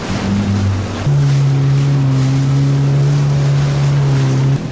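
A jet ski on the sea off Phuket surges as the throttle opens about a second in, then holds a loud, close, steady engine drone with water wash underneath until the last moment.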